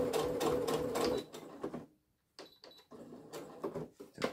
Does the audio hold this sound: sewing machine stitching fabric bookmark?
yes